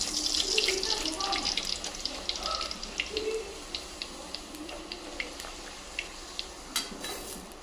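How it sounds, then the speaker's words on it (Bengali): Luchi, puffy white Bengali fried bread, sizzling in hot oil in a kitchen, a steady dense crackling hiss with scattered sharp pops throughout, close and fairly loud, no voices. "তেলটা গরম হয়ে গেছে, লুচিটা দিয়ে দেবো।"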